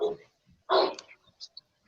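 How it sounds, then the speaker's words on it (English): Neighbor's dog barking a couple of times, one short bark and a louder sharper one, with a faint yip afterward, slightly distant against quiet surroundings. "Whose dog is barking?"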